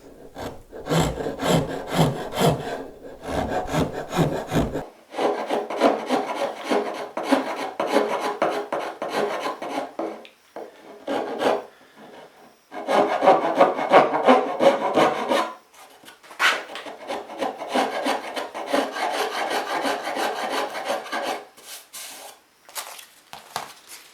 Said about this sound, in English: I'm just going to use these Irisaka carving files to do it.